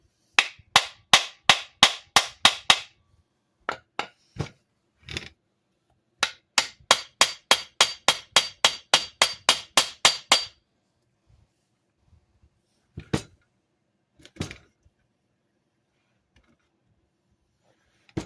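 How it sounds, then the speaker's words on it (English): A brass hammer strikes a stuck KTM 125SX engine case during a case split, first in two fast runs of sharp metallic blows, then a few sparse isolated taps with silence between. "I'm gonna get a brass hammer."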